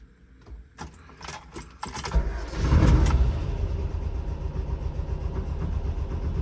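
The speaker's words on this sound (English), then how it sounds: "get ready to start the vehicle." A few clicks and rattles, then a car engine cranks and catches, jump-started from a portable super starter pack, settling into a steady low idle rumble close by.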